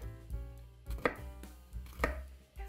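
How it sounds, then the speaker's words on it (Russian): A knife chops eggplant into cubes on a cutting board, several distinct thuds at an uneven pace, close and clear with no talking. "Нарезаем кубиками."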